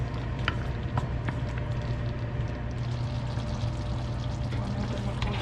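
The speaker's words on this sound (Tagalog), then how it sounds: "Ngayon po niyan, atin lamang pong isasalin ito sa lalagyanan." Filipino beef pares stew is poured into a serving container, giving a steady, close, wet rushing sound throughout with a faint sizzle-like hiss and no talking.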